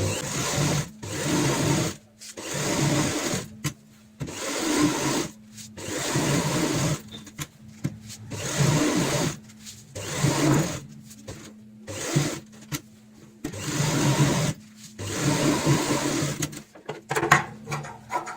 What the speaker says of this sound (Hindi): सबसे पहले हमें चारों साइड यहाँ पे सिलाई लगानी है।